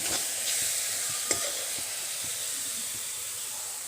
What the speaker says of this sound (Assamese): এয়া মোৰ নাৰিকল আৰু গুৰৰ ভাজি হৈ গৈছে